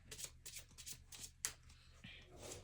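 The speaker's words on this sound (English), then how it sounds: "he gets to shuffle his discard pile to put it back into his deck" A discard pile of playing cards from a deck-building card game is riffled and shuffled close up, several quick crisp bursts of card flutter in a row, ending with softer sliding and squaring of the stack.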